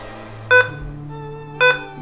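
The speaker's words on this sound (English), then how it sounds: "Why is it beeping? This is scary." Two short electronic beeps sound about a second apart over a low steady machine hum, clear and close, from a computer booting during an Arch Linux install.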